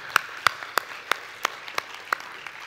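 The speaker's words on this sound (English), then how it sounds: "A close applause" At the close of a UN public service forum session, a sparse, slow round of claps sounds, about eight distinct sharp claps spaced evenly over soft room noise, each standing out clearly.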